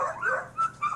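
Dog barking close by, a few short barks and yelps in quick succession with a whimpering edge, heard alone.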